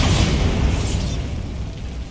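A magical Bombarda blast bursts against a barricade in Hogwarts Legacy, one loud, close explosive boom with a dense rumbling tail that fades steadily over about two seconds.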